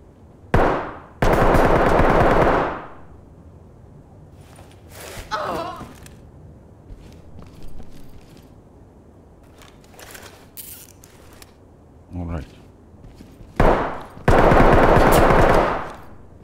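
Gunfire in the tactical shooter Ready Or Not during a SWAT raid: loud sustained automatic bursts near the start and end, with scattered single shots and faint radio chatter between.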